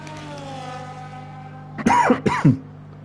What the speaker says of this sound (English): A little coughing fit.